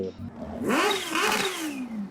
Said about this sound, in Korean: 가와사키의 그 H2? 그 차저 달려 나오는 그 바이크가 있어요. 배기음 자체가 첨부하겠습니다.